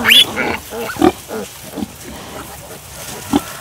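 A sow lying with her piglets gives several short, low grunts at irregular intervals. A person speaks softly in between, and the grunts stay fairly close and moderately loud.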